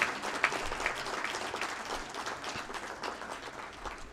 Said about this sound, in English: Can we please have another big round of applause